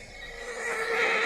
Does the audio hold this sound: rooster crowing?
no